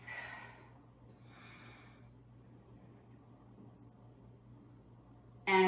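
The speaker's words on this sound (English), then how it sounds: "And breathe." A person exhales twice during a hip and thigh stretch in a home strength workout, soft breaths over a quiet low hum, followed by a sudden loud burst at the end.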